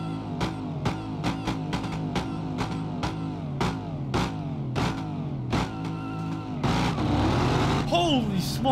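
Supercharged Camaro ZL1 1LE in BeamNG.Drive, engine revving in a string of sharp repeated blips and gear-change pulses, then a sustained rising roar, with someone speaking excitedly over it.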